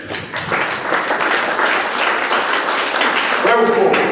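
A church congregation applauds and cheers in acclamation of Jesus, loud sustained clapping and voices filling the room throughout, with a brief shift near the end.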